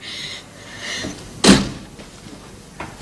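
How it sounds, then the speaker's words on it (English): A door bangs shut in a hospital room, one sharp loud thump midway, with quieter shuffling and movement before and after it. "Shut the door."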